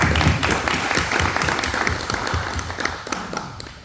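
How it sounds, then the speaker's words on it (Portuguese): Audience applause at a university tribute event in Portugal, a dense burst of clapping from a crowd that stays strong and steady, then thins slightly toward the end. "uma força de palmas"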